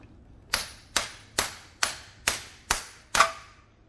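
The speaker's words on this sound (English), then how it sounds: "we're gonna go ahead and tap right here with the hammer" Seven sharp metallic hammer taps seating a passenger-side CV axle on an Acura RSX Type S, at a steady, even pace, each ringing briefly before the next strike, close and clear.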